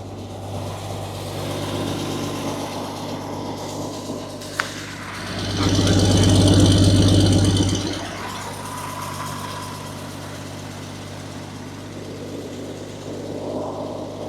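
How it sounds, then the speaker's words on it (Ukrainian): Dronningborg D7000 combine harvester engine idling steadily, a low even diesel drone with a brief swell of louder revving in the middle, heard close up with no speech. "Ось така робота двигуна."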